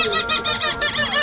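Up close, a man mimics a sparrow's call with a rapid, steady series of high, thin chirps, about five short bursts per second.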